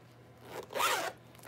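A single quick zip runs along a genuine Italian leather clutch, close and fairly soft, rising and falling within about half a second against a quiet background.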